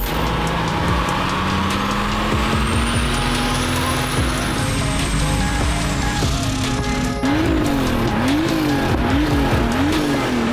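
A turbocharged BMW 530i engine tuned to about 400 horsepower roars loudly and continuously, its pitch climbing steadily, then warbling rapidly up and down near the end with a tire squeal.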